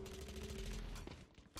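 Rapid gunfire in the video game VALORANT, a dense burst of shots then a few scattered ones, faint and distant in the mix with no speech.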